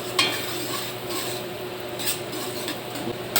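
Garlic sautéing in butter in a pan for a creamy pork and mushroom dish, a soft steady sizzle with light scraping stirs and a few clinks of the utensil against the pan.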